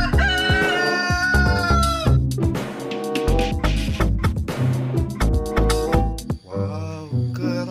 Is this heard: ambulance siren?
no